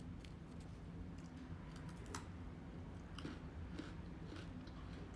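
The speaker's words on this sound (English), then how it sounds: "Really good, really nice crunch, way better than the Parmesan crisps that come in the bag." Someone chews homemade carnivore crackers, giving a steady stream of crisp crunches and bites close to the microphone, fairly quiet with no talking.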